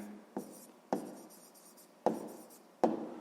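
A pen writes an answer on paper during a sixth-grade maths exercise, four distinct pressed strokes scratching out close and clear, each starting sharply and fading into a soft scratchy trail.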